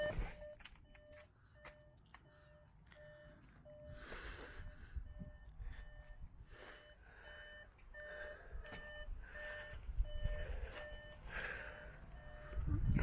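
A VW Golf MK7 in reverse gear emits a steady, evenly spaced electronic beeping, faint and tonal, over low rumbling background noise with no talk.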